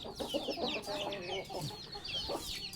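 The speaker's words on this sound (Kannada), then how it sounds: "ಕೋಳಿ ಎಲ್ಲ ಹೊಡೆ ತುಂಬ ತಿಂತಾವಾಗ." Chickens fed scattered rice cluck and squawk in a busy, overlapping chorus while pecking, fairly quiet and nearby, with no talking.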